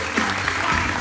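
Audience applause at the Miss Italia beauty pageant final, a steady dense clapping throughout a short burst, with faint voices mixed underneath.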